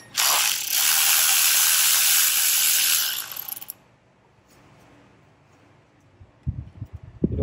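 Ratchet backing out screws from a BMW F10 535i N55 oil filter housing, a fast close clicking burst for about three seconds, then quiet with a few faint knocks and thumps at the end.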